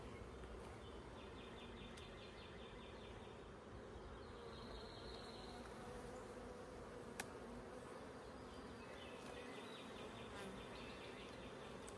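Forager honey bees buzz around a hive in the morning, a continuous soft droning hum with individual bees passing close by in brief louder whines, faint and steady throughout.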